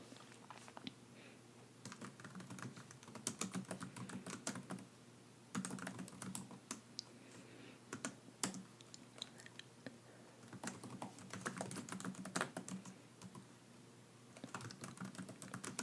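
Soft, steady typing on a computer keyboard with close, crisp clicks in irregular bursts and brief pauses, quiet and intimate in an ASMR setting with no talking.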